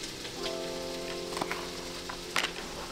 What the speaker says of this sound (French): les courgettes elles sont bien en train de cuire